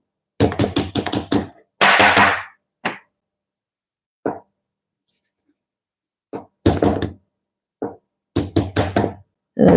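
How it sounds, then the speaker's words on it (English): A metal cake ring dusted with flour is tapped against a surface in several short bursts of quick hollow knocks, separated by pauses with a few faint isolated taps, close and without talk. "you tap it a bit to remove the excess flour"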